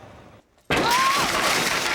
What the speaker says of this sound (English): Smashing through windows.